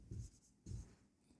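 A pen writes on paper while a maths answer is noted down, two short soft scratchy strokes about half a second apart, close and quiet with no talk.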